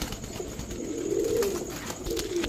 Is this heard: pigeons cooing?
yes